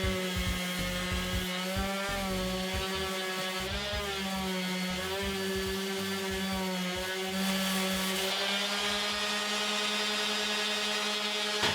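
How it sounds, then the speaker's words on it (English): A power sander with 60 grit sandpaper grinds over wood on a patio side table, its motor whining steadily with shifting pitch under a coarse rasp, close and continuous throughout. "Here's an example of an area that'll be easier to sand down if I use 60 grit sandpaper."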